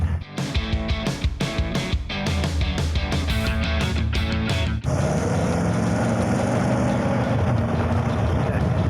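A 1970s car engine revs hard through several quick throttle blips, then settles into a steady, loud drone while driving, heard from inside the cabin with no talk.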